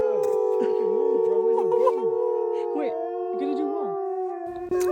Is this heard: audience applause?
no